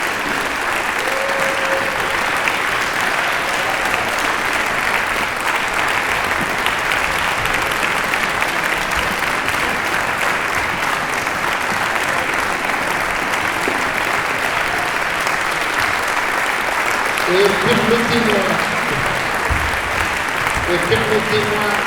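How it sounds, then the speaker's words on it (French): A crowd at the closing of a botanical convention keeps up a long, unbroken applause for organizers and volunteers, with a few voices heard faintly near the end. "pour que vous puissiez les applaudir et les remercier"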